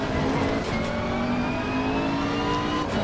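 A McLaren race car in Assetto Corsa Competizione accelerates hard, its engine note climbing steadily in pitch as it pulls through the gears, loud and continuous with no break.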